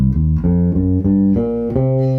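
A bass guitar runs up a C blues scale that includes the flattened fifth, one clear plucked note after another, close and loud, alone with no talking.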